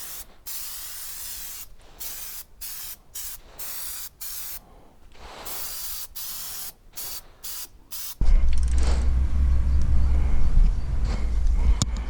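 An aerosol spray can lays a coat of paint on tires in a series of short hissing bursts with brief gaps between them, close by, followed by a louder low rumbling handling noise.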